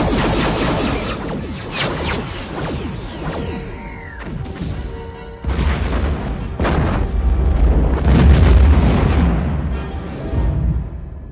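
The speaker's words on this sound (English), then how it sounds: "We're firing at the surface." Heavy weapons fire on a planet surface in the EVE video game, with a series of loud booming blasts and crashing impacts layered with rumbling, close and forceful throughout.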